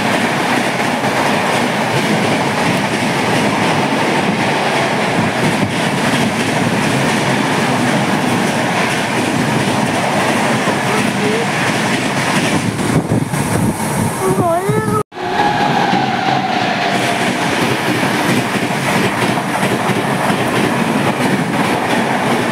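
At a railway station seen from a footbridge, a train draws near with a continuous loud rumble and rattle that builds across the clip, with a brief squeal near the middle and a short dropout before the noise resumes.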